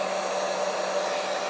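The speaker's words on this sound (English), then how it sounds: "And now I get my blow dryer." A handheld blow dryer runs steadily while drying hair extensions, a constant loud whooshing hiss of airflow with a faint motor hum, close and uninterrupted with no talking.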